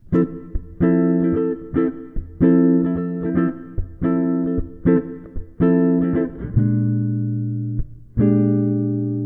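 A clean keyboard or guitar plays a blues progression in short rhythmic chords, changing harmony partway through, ending on a held chord; no voices.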